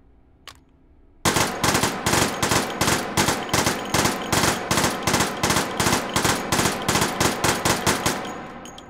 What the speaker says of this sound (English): this one fires in 4-round bursts